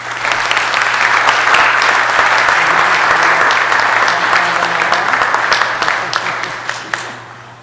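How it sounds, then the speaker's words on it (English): Steady, loud applause from a city council meeting audience fills the room, holding strong for several seconds before tapering off at the end, with a low electrical hum underneath. "Let's give them a big round of applause."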